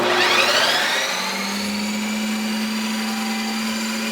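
A home ice cream maker spins a batch of light ice cream, a loud, steady mechanical whir and drone holding evenly throughout with no voices.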